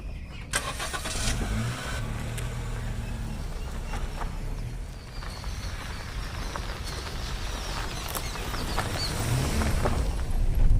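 A petrol Honda Jazz driven on the road after a major service, its engine humming steadily with some revving and road noise that swells toward the end, with a faint bird in the background.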